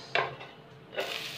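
Onion sizzles in oil in a pan for crab relleno, with two quick scraping stirs over a faint, steady fry.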